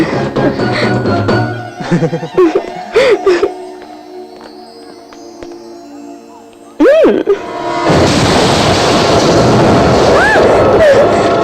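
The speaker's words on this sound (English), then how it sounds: "Explosion has been reported. Bomb in exploded!" A sudden loud boom bursts in partway through, followed by a sustained roaring rumble that lingers, after earlier scattered thuds and voices.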